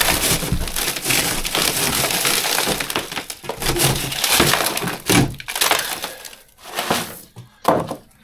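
Glass smashed and crunched while a tour bus interior is stripped out: dense, continuous shattering and grinding of broken panes, close and loud, easing into a few separate crashes near the end.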